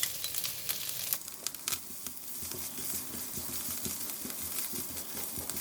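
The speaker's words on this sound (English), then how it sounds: "We fry a bit until the vegetable a bit softened." Spring onion stems sizzle and crackle in a hot pan while mee goreng with tofu is cooked, with steady close frying under occasional stirring clicks and scrapes, and no talking.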